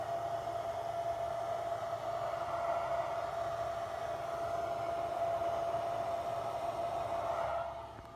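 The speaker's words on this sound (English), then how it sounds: "you hear that big ass vacuum cleaner sounding air blower" A C-flow fan air blower runs in a car fitted with an 18-inch Sundown Audio ZV6 subwoofer, giving a loud, steady whooshing roar like a vacuum cleaner with a constant whine, close and alone, cutting off at the end.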